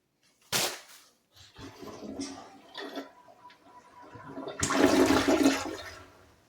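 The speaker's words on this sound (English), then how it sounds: "First, I'm going to flush it." A household toilet flushes nearby with a sharp handle clack, then a loud rushing swirl of water that builds and drains away over a few seconds.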